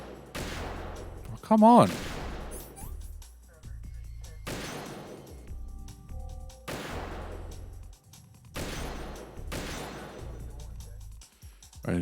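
In the stealth action game Metal Gear Solid 2, several loud bursts of gunfire arrive every couple of seconds, each a sharp attack with a ringing tail, while a player speaks briefly over the shots.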